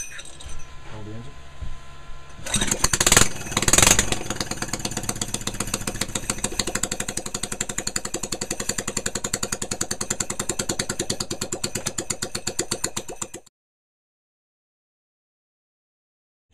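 A Honda vertical shaft engine mounted on a roto hoe runs with no exhaust fitted, starting with a brief loud burst before settling into a steady, close, rapid idle that runs for about eleven seconds and then cuts out.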